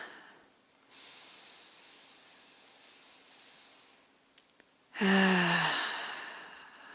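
Slow meditative breathing: a quiet, drawn-out inhale followed by a louder, close sighing exhale near the end, with a faint rustle between and no talking.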